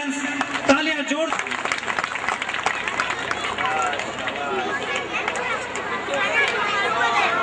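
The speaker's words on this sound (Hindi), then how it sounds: "जोरदार तालियां दोस्तों, सभी एफसीएंस तालियां जोर" Loud crowd applause at an event where a magazine is being released, with dense clapping mixed with chatter and babble from a large gathering, sustained throughout.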